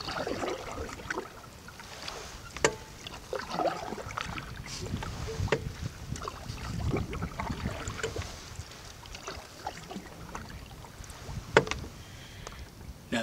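A canoe drifts with the current on the Kipawa River, with soft water lapping and occasional knocks against the hull under steady outdoor wind noise, fairly close, with no talking.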